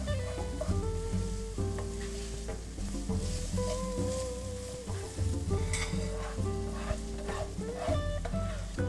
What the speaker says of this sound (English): actually this is a saute, for about 1 minute, keeping it stirred all the time until the onion just starts to soften.